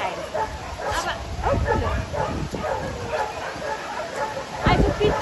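A male dog about three and a half years old, waiting at a shelter for a home, barks and whimpers in short yips close by, mixed with a busy background of people talking.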